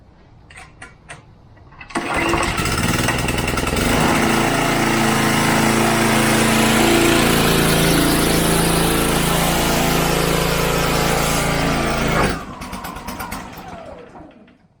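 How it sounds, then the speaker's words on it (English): An Exmark Commercial 30 X-Series lawn mower with a cold engine starts up and runs loudly with the blade engaged for about ten seconds, a steady droning roar, then the engine suddenly dies, leaving quiet background noise. "I'm gonna start this up, engage the blade, and try and listen to the engine actually power down when I engage that blade"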